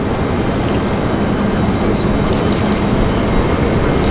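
A JetBlue Airbus A320 jet departs toward San Juan, Puerto Rico, heavily loaded, its engines a steady, loud broadband roar that holds without break throughout.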